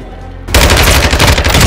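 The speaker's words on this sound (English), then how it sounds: "Taking effective fire!" Loud, continuous automatic gunfire erupts suddenly and keeps hammering in the Call of Duty: Modern Warfare 2 DMZ mode, a dense, close barrage of rapid shots.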